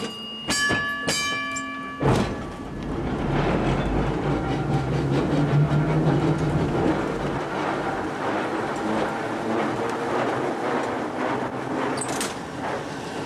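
Baltimore streetcar car 1164 rolling on its rails past a roundhouse, a steady mid-level rumble of wheels on track with a couple of sharp clanks near the start.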